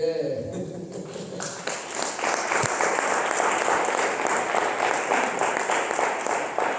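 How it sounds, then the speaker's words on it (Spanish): Applause from a church congregation at a Christian sermon swells after a short moment of talk and then stays steady and full. "Dale un aplauso."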